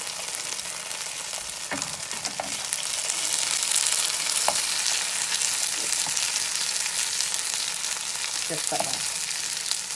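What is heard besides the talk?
pierogi frying in a pan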